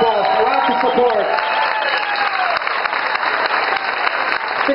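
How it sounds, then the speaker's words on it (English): Dense, steady applause and some cheering from a crowd supporting a woman having her head shaved, continuous and loud throughout, with a voice faintly mixed in at the start. "Give her a big round of applause."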